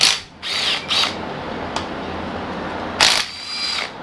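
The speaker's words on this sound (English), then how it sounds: "I'm just gonna grab a 12mm and just rattle those off from the top." A 12mm socket ratchet working loose the long cylinder head bolts on a Yamaha YFM225 ATV engine, giving short bursts of rapid clicking separated by pauses, close and alone.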